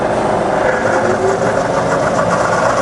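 A fully rebuilt Bridgeport milling machine runs in reverse with a steady, even mechanical hum and motor drone, close and continuous with no pauses.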